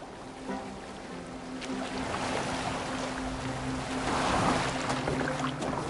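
A Viking longboat sailing on open water in Assassin's Creed Valhalla, with a steady wash of waves and wind rising gradually under faint tonal music, no talking.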